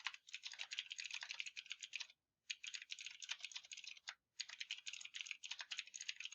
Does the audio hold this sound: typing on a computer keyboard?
yes